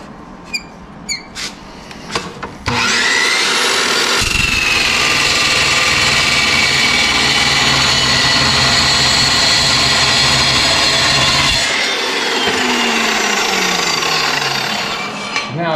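Power saw cutting metal pieces for a welding tool table in a shop; after a few clanks it screams loud and continuous for about nine seconds, then a second loud cutting pass follows and the sound winds down with no talk.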